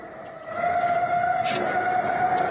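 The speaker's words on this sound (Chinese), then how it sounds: "确实是防空警报器" A school's air raid siren, malfunctioning at night in Taipei, swells up after a quiet start into a loud, steady wailing tone that holds without voices.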